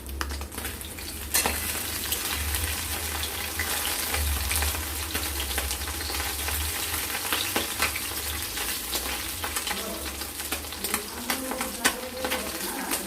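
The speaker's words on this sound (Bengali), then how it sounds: "এবার মাছটা ভাজা হোক একদিকে লাল হোক তারপরে মাছটাকে উল্টে দেবো" Karti fish frying in hot oil for a mustard-poppy seed dish, giving a loud, steady crackling sizzle that runs throughout with scattered pops and a sharper burst near the start.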